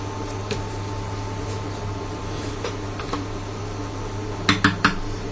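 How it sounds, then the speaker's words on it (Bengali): A lid set onto a pot of cooking khichuri gives three quick metallic clanks close by, near the end, over a steady low stove hum. "এইভাবে দিয়ে আপনি ঢাকনা দিবেন।"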